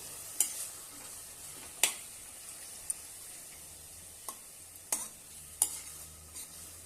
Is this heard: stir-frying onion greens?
yes